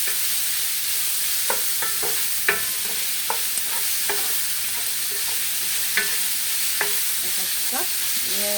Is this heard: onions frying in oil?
yes